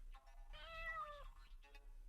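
A single drawn-out cat meow, fairly quiet, rising then falling over about a second, over a low steady hum.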